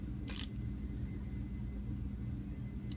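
A rotating 60-click dive bezel on a Squale 1521 50 Atmos watch gives a sharp, close click near the start and a fainter one near the end, with quiet room tone between.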